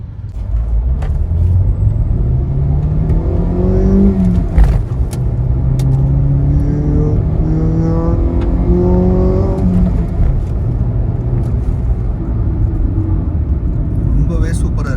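A Hyundai Elite i20 driving on a main road, heard from inside with a loud, continuous engine rumble whose pitch climbs repeatedly as it accelerates through the gears, under a voice talking.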